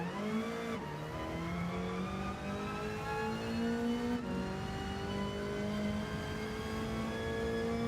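Toyota Supra race car engine in Gran Turismo 7 during online lobby racing, a steady loud sustained drone with rising pitch through the gears, brief shift breaks, alone without talk.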